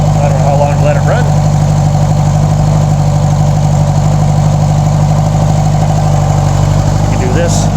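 A Honda GL1200A Gold Wing motorcycle engine idles steadily and close up after its first start, a continuous low rumble throughout with no talk over it.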